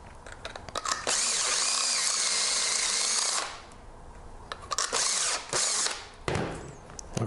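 A power drill fitted with a countersinking bit whirs loudly and close for about two seconds, then gives several shorter revving bursts with brief pauses in between, working on slag and burrs.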